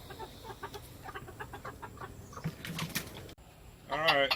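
Chickens clucking in their enclosure on a farm during muscadine picking, a scatter of short clucks and calls running throughout, with a louder, closer bird call near the end.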